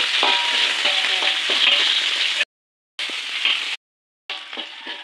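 Shallots and leek stir-frying in a hot pan for a banana blossom dish, a loud close sizzle broken by two brief silent gaps, with faint spatula scrapes under the hiss.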